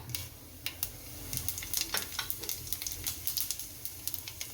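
Cumin seeds crackle and sizzle in hot oil while a Gujarati chana flour curry gets tempered, a steady frying hiss broken by small irregular pops and a few light stirring scrapes, close and continuous with no voices.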